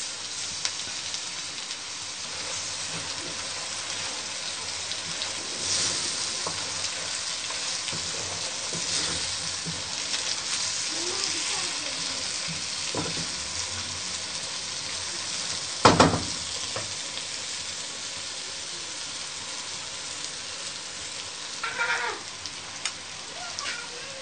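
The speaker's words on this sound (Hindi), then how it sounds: "अब ग्रीन मिर्च हम इस तरीके से डाल देंगे।" Green chillies sizzling in a pan with cooked karela (bitter gourd), a steady frying crackle with occasional stirring scrapes and a sharp clatter partway through, close and constant.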